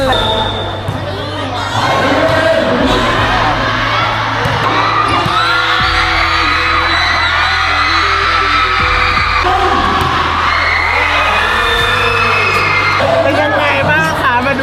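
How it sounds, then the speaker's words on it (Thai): A large crowd of students screams and cheers loudly at a school volleyball match in an echoing hall, shrill yells rising and falling over a dense, continuous din. "เห็นเขากรี๊ดมันเสียงดัง"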